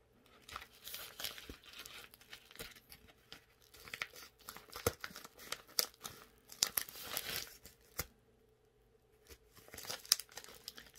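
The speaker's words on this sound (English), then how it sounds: "I'm going to open it up." Close-up crinkling and tearing of a package holding tank badges in irregular bursts, rustling on and off with brief pauses between pulls.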